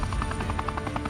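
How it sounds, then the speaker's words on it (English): A coastal rescue helicopter's rotor beats in a fast, regular thumping rhythm over a steady engine drone, continuous and moderately loud, heard on its own without talk. "the rescue helicopter departs instantly for the trauma center"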